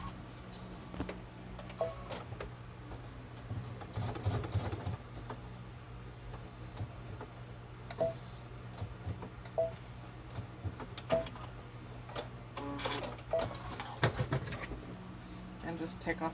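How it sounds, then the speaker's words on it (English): A sewing machine stitches a box pattern to hold the end of a strap in place, heard as short bursts of rapid mechanical ticking with pauses between runs, fairly quiet over a steady low hum. "What we're doing is just sewing a box around the end to hold it in place."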